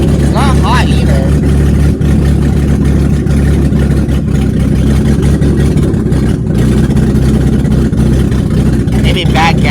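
A Ford Mustang engine running rough, a loud, close, uneven low rumble that sputters and surges throughout without letup, with a person's voice faintly heard over it.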